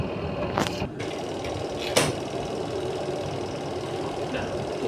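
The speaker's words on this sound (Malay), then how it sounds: "So dia dah boleh spin lah." The motor of a Midea washer-dryer, whose drying section had stopped working, spins with a steady mechanical whir punctuated by a few sharp clicks.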